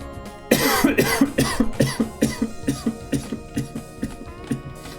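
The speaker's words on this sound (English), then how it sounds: "I had a weird cough" A burst of broadband noise, then a steady run of short rhythmic clicking or hacking pulses, close and fairly loud, with no talking.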